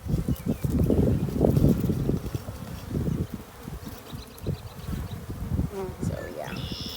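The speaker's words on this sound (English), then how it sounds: "bee just landed on me" Bees buzz around an open beehive while honey supers are added, a steady low insect hum with brief louder passes close by.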